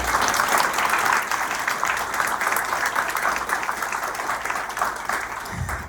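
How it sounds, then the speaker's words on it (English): Sustained applause from the audience at a 2023 scholarship fund ceremony, steady and dense clapping lasting several seconds without letup, close and fairly loud. "please give a round of applause for all of these exceptional individuals"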